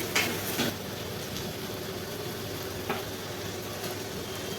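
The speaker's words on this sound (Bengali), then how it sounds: "মশলাটাকে ভালো করে কষিয়ে নিতে হবে।" Chicken feet cook in a spice paste with chilli powder and a splash of water, bubbling and sizzling steadily in the pan close by, with a few brief stirring scrapes and no talking.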